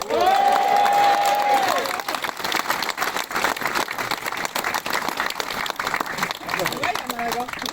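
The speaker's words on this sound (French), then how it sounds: "je voulais vraiment que vous l'applaudissiez aussi très fort" An audience in a hall applauds loudly and steadily, the clapping sustained throughout with a voice rising over it at the start and some cheering mixed in.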